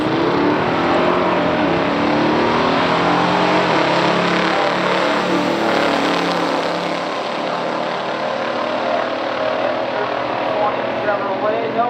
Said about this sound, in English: Troy Lamont in Roseville, Michigan, 70 Chevelle SS454, automatic going up against Corey Robertson, your EPA 70 GS455